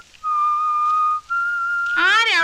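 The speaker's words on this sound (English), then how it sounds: "She asks who is whistling." A woman listens as a lone person whistles a few sustained, clear tones, steady held notes with a brief pause, then a rising warbled phrase at the end, close and fairly loud.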